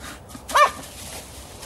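Anti-terror K9 dog in training in Israel, letting out a single short bark amid quiet background noise.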